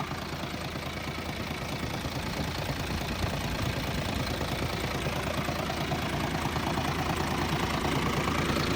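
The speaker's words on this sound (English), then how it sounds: "here I have this International mixing truck. Nice running truck. This has a Navistar engine." An International feed mixer truck with a Navistar engine idles steadily close by, a continuous low, rough rumble with a faint knocking texture and no pauses.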